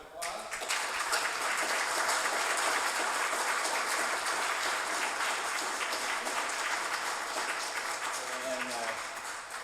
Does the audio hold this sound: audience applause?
yes